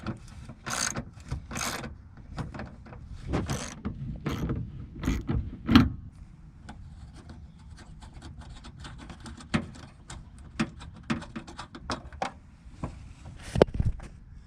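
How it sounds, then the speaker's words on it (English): A ratchet wrench loosens 10mm bolts during front parking light bulb replacement on a 2008 Ford F150. Bursts of quick clicking ratchet strokes come close and loud, separated by short pauses, with no talking. "I'm going to take off this 10mm, this 10mm, and that 10mm."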